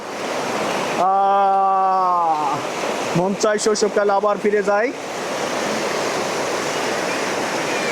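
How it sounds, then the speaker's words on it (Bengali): Fast, cold stream water rushing in Haishu, Ningbo, a continuous loud broadband roar with a singing voice rising over it for a few seconds in the middle. "পানি কি সুসু শব্দ"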